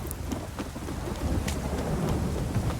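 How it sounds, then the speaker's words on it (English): Heavy downpour in The Witcher 3 game world, rain hissing steadily with low rumbling thunder rolling underneath throughout, dense and close with no voices. "This downpour's a bastard"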